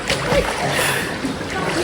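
Water splashing in a cold pool or stream on a hot day, short choppy splashes up close, with voices mixed in.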